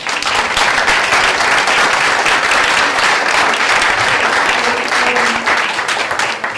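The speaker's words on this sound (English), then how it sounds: "could we just give them another round of applause?" Sustained audience applause at an evening poetry reading featuring poets from the Horn of Africa in New York, a full, steady wash of clapping that holds loud throughout before easing slightly at the end.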